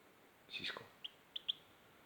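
A pet goldfinch gives a few short, sharp chirps, close and clear, in a quiet indoor room, following a brief burst of softer twittering.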